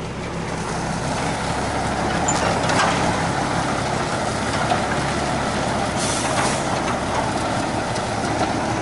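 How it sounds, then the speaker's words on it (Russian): A truck pulling a two-axle ORTHAUS trailer with air suspension pulls away across a parking lot, giving a steady, moderately loud engine and rolling rumble with brief hissing bursts, with no talk. "Все, и машина начинает движение."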